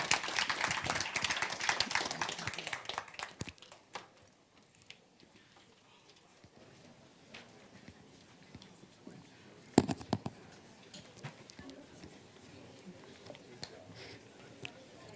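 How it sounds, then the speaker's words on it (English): An audience at a digital talent summit conference applauds its panelists with a few seconds of dense clapping. The applause then drops to a quieter hall with scattered sounds and a brief burst of noise partway through. "Big round of applause for our panelists, George, Ricardo, Ayub, and Luis."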